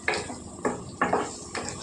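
A spoon stirs brinjal curry with onions in a pan, producing four evenly spaced scraping clinks of metal on metal over a faint background hiss.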